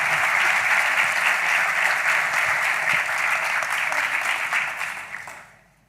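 Steady, dense applause from a theatre audience at an inclusion-themed stage show, sustained at full strength for several seconds before tapering off and fading out at the end.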